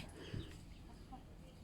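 A single soft cluck from a chicken, faint and brief against a low background rumble.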